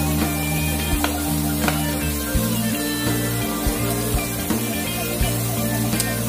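Fried rice (nasi gila) with chilli sauce and oyster sauce is stirred in a hot pan, a constant loud sizzle with repeated scraping and knocking of the utensil against the pan at an uneven rhythm, close by, with no voices.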